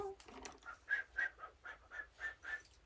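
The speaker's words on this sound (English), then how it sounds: "I'm not good at whistling." Someone whistles a short, breathy tune of about eight notes, close and fairly quiet, with a brief bit of voice at the start.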